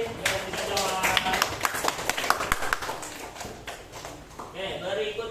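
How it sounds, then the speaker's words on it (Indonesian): A classroom group claps for a student's correct answer. Quick, uneven hand claps patter in clusters, rising and falling, while people talk over part of it. "Oke, tepuk tangan lagi"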